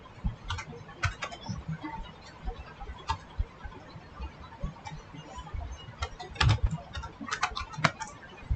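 Fingers type a short search phrase on a computer keyboard, producing light, quick key clicks in uneven bursts, close but quiet, with no talking.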